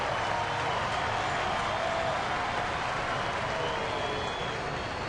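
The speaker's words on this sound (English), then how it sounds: "Crowd picks up." A baseball stadium crowd in the 7th inning of an Angels game in Kansas City, cheering in a broad, sustained roar that stays fairly far off and even throughout.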